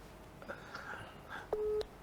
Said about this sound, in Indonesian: Kok gua telepon Surya ya?